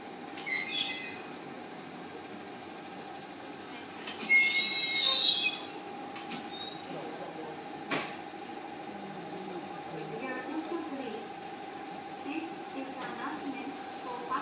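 A 211 series local train at Otsuki station, with metallic wheel squeals and clanks over a steady electric hum, while a platform announcement plays.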